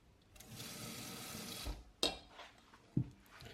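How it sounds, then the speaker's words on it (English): Moringa and soursop herbs being washed by hand in a bowl of water, with a steady wash of splashing and swishing followed by a few sharp clinks and knocks of a dish, close up and without talk. "You just want to give them a good wash."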